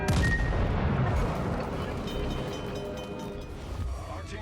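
A British battleship fires a full broadside in World of Warships, a heavy booming salvo with rumbling low-end blast and rolling water noise that fades gradually, while someone talks over it.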